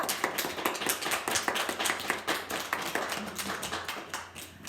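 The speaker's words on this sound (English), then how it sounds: "Let's give Harley a big clap." A class claps for a pupil during a Friday golden award school assembly, steady rapid hand claps from a modest group filling the whole stretch without a break.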